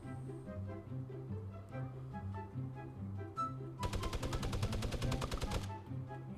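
Rapid automatic gunfire in the video game Fortnite, a dense burst of evenly spaced shots lasting about two seconds, loud and close, following a stretch of quieter rhythmic game sounds and music.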